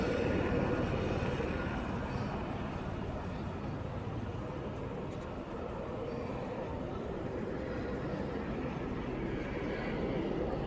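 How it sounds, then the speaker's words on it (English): Helicopter hovering and moving around overhead in Baltimore, Maryland, a steady, loud broadband rotor and engine roar that fills the whole stretch with no pauses and no talking. "As you can see, the helicopter is right there, moving around."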